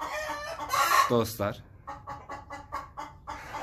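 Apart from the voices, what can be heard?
Ligorin rooster crowing and clucking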